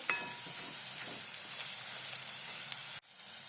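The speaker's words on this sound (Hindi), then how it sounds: "दो मिनट तक अच्छे से भून लेंगे, लहसुन की कच्ची स्मेल जाने के लिए।" Close, steady sizzling of coconut, ginger and garlic frying in a hot pan, with a few soft stirring scrapes. The crackle cuts off suddenly near the end.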